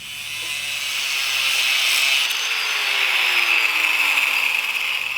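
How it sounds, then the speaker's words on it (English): A tube being cut down during a 1986 Kawasaki GPZ1000RX motorcycle restoration: a steady, close, continuous hissing saw-like rasp that swells slightly and holds throughout, with no talking. "After cutting the tube down, cleaning up the edges"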